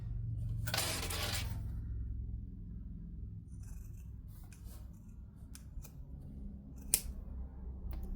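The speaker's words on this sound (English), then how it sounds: "So I'm going to trim as close as I can without clipping into the stitch." Scissors snip thread ends close to the stitching on a boxy fabric bag, a few quick cuts over a steady low room rumble with small scattered clicks.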